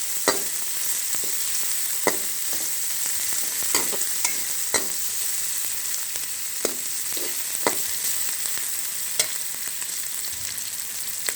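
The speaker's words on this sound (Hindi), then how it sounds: "इसे बस हमने थोड़ा सा सौटे ही करना है, सॉफ्ट करेंगे बस।" Finely chopped onions sauté and sizzle in a pan for chicken kabab, with steady frying hiss and a series of sharp clicks and scrapes from stirring throughout, with no talking.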